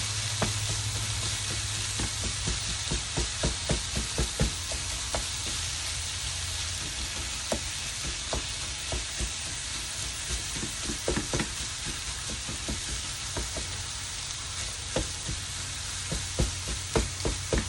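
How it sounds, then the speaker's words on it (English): Very lean 85-15 ground beef sizzling in a pan, a constant crackling fry with repeated sharp scrapes and taps as a spatula slices through the meat; no one speaks. "with my spatula, I'm going to slice my ground beef."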